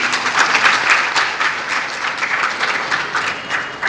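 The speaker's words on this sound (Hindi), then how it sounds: "जोरदार तालियों से इनका स्वागत कीजिए।" Sustained applause from an audience at a book launch event in Udaipur, a dense steady wash of clapping that swells and holds for several seconds.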